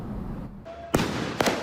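Fireworks go off on city streets, two sharp bangs about half a second apart over steady background noise, heard at a moderate distance.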